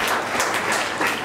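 Dense, loud applause from guests at an engagement ceremony, encouraging a nervous girl on stage, a steady wash of clapping with no talk.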